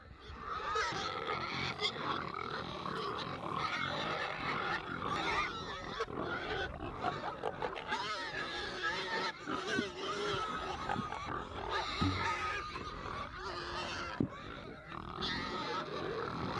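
Hogs on a homestead grunt and snort continuously at close range, a busy, rough chorus with occasional louder squeals.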